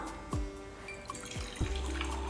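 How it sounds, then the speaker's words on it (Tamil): Water poured onto jaggery while making sweet appam, a quiet splashing trickle with a few distinct plopping drops, close and faint, with no talk over it. "இந்த வெள்ளத்தை தண்ணி ஊற்றி வச்சிடலாம்"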